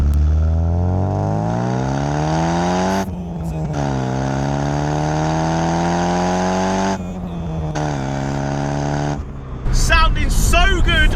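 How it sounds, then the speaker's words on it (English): A 1993 Vauxhall Astra GSI 16-valve 1.8-litre hot hatch on a British B-road, its engine rising in pitch through long revving pulls with brief drops at gear changes, loud and close, ending in a rougher burst of noise. "Sounding so good on the British B-roads today. Now this is the 1993 Vauxhall Astra GSI 16 valve."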